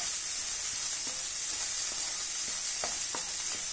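Green peas with mint leaves tossed in a hot pan, a steady loud sizzle and hiss throughout, with soft scraping and clinks of stirring scattered through it.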